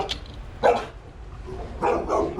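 Dog barking outdoors near a village house, a few sharp barks in quick succession, close and fairly loud over faint background noise.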